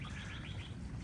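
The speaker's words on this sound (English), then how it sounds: "Birds are singing." Birds sing in a wet late-winter setting in Stowe, Vermont, with a quick string of chirps and warbles over steady background noise for about a second.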